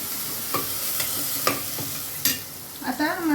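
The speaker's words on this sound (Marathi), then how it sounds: "मस्त कारले आपले तर फ्राय होतात एक साईडला" Stuffed bitter gourds fry in a pan, a steady broadband sizzle broken by a few sharp clinks and scrapes of stirring near the end, with no one talking.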